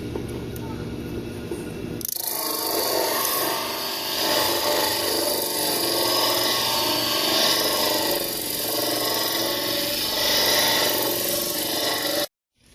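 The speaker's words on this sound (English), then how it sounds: "we're also going to use the sanding disc to round that over" A steady, abrasive power-sanding whir of a sanding disc rounding over a wooden hand plane tote starts after a couple of seconds and runs continuously, loud and close, then cuts off abruptly.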